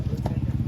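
A horse's hooves clip-clop in a quick, steady rhythm close by, with voices murmuring underneath.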